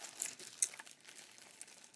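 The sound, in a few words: crinkling paper wrapping being handled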